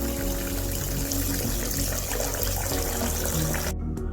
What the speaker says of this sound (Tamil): தண்ணி ஊற்றி மூழ்கிற அளவுக்கு தண்ணி விட்டு ஊற வச்சுக்கலாம்.